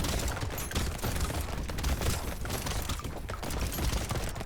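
Rapid weapon fire from a low-damage gun in the video game Brotato: dense, continuous crackling shots and clicks rattle on steadily for the whole stretch over busy game noise, with no talk.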